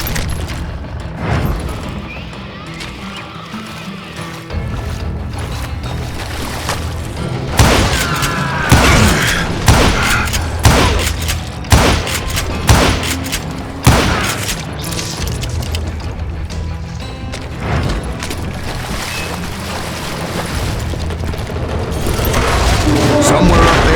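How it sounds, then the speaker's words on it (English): A fusillade of gunfire in Call of Juarez: Gunslinger, with sharp shots and heavy booms cracking in clustered bursts from above, loud and close, mixed with thuds, under a voice talking. "a fusillade of bullets come raining down from on high"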